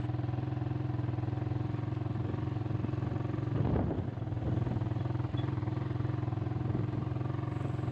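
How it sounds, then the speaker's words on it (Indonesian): A motorcycle engine drones steadily and up close throughout while riding to a small shop, a continuous low hum with a brief rush of wind or passing noise midway and no talk. "jadi mending pakai motor aja"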